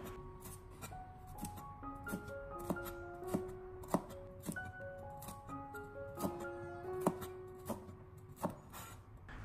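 A knife chops a halved, deseeded red chili pepper into small irregular pieces on a board, producing steady, crisp close taps in an even rhythm against a quiet background.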